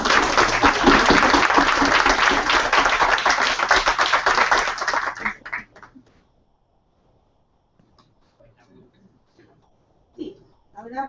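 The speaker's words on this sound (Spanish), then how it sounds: "Un fuerte aplauso." Applause at a book presentation for a novel about a clandestine cook: a dense burst of audience clapping for about five seconds, fading into quiet, with a voice briefly speaking near the end.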